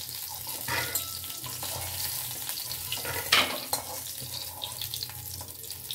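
Eggplant pieces are stirred and lifted from hot frying oil in a home kitchen, a low steady sizzle with soft scraping and clinking of a spatula against the pan, plus a couple of sharper knocks.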